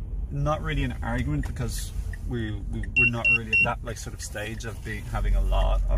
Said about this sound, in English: Sorry for the beeping.